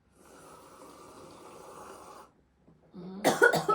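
After a stretch of running water, a sudden burst of loud, harsh coughing breaks out close by.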